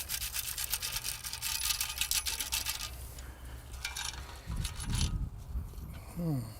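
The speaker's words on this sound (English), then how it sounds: "Okay, we've got it in the sand scoop here." A metal sand scoop sifts beach sand while metal detecting for a 1944 silver quarter, giving a sustained gritty hiss and rattle that fades, followed by a few heavier shakes and a brief clink.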